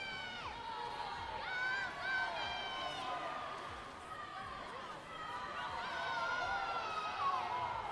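At a swim meet, a cheering section of young swimmers yells and whoops in a steady, distant-sounding wash of high voices that rises and falls without a pause.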